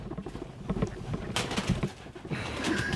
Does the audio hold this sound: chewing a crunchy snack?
no